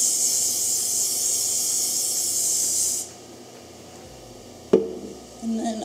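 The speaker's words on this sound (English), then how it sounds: "And then just spray this with hairspray." A steady close hiss of aerosol spray lasts about three seconds, then stops; a soft tap and faint rustling follow.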